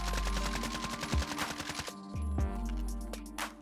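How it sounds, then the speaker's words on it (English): A weapon in a console shooter video game fired repeatedly at a wall from a few feet away, a fast loud burst of automatic shots that stops and then gives a couple of single shots, with no talking. "You want to shoot your weapon of choice at a wall from a few feet away"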